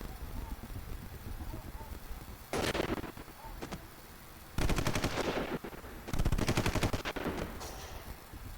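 Rapid automatic gunfire in a zombie video game erupts in three loud bursts of machine-gun fire between quieter stretches of background game noise.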